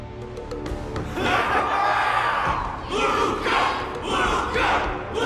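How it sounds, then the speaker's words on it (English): A large crowd roars and cheers in sustained swells in the video game Honkai: Star Rail, loud and close, with shouted voices rising and falling over several seconds. "Everyone's cheering for you, Luca!"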